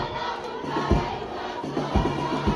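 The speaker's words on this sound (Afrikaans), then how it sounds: "Dis die skare van Dysselsdorp wat hard die vir hulle span support en sing" A Dysselsdorp crowd at a pre-season rugby friendly sings and chants loudly in support of their team, a steady roar with rhythmic thumping beats, likely a band, underneath.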